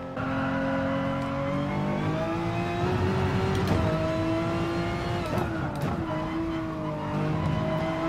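A Gran Turismo video game racing car engine drones and revs steadily, pitch climbing and dropping through gear changes, with a constant transmission whine and faint tire noise.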